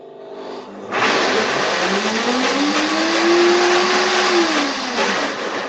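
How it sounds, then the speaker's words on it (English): A 9200A blender runs its 20-second preset on ingredients, switching on with a loud whirring roar after a quieter start, its motor pitch climbing steadily, holding, then dropping back down. "Stopping the blender because I want to use my temper tool to make sure that everything blends nicely."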